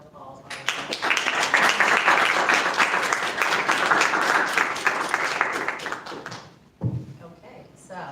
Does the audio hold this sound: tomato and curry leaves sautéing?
no